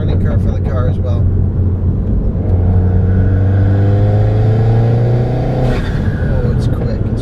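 A MINI Countryman S ALL4 with a JMTC 47mm Dominator turbo revs hard under acceleration, its engine note climbing steadily and loudly for several seconds before easing off, with a voice talking over it.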